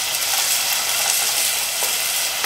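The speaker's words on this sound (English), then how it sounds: "It's about 2 tablespoons of coconut oil. I add in the onions and sweat the onions" Onions sweat in about two tablespoons of coconut oil in a pan, giving a steady, dense sizzle that stays close and even throughout, with no talking.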